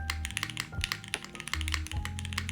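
Close, rapid mechanical keyboard typing with crisp clacks and a few deeper, thocky spacebar presses in an uneven rhythm.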